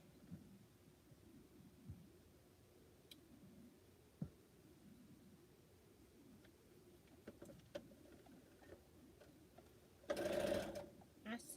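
A home sewing machine stitches quilt pieces in a short, roughly one-second whirring burst near the end, after a stretch of quiet room noise with faint rustling and handling.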